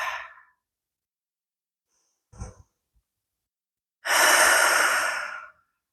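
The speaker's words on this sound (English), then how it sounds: "Nice deep breaths here." Deep breaths during a soothing yoga hip stretch: a soft exhale at the start, a brief faint sound midway, then one long, full, airy breath near the close, close to the mic and otherwise quiet.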